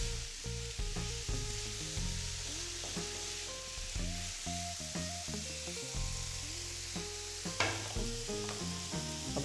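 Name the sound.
chicken filling with black pepper cooking in a pan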